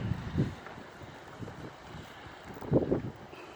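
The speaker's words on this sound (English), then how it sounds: "the rain has like ceased, but the wind has taken over" Strong wind blows outdoors after rain, buffeting the microphone in irregular gusts over a low, steady roar, with louder bursts near the start and toward the end.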